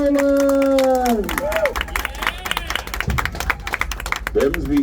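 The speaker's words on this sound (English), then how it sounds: "How about a big old round of applause for Alfie and Wolfie Boylan?" An audience at a live show in Silver Dollar City claps and cheers in a dense, steady wash of applause, with a voice speaking over it at the start and again near the end.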